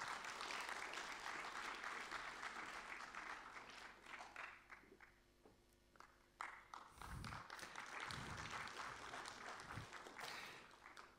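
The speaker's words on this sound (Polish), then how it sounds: "Brawa!" Audience applause at an award gala in Wielkopolska as a statuette is presented on stage, a sustained crowd clapping that dips briefly mid-way and swells again, with a few louder close claps and thumps.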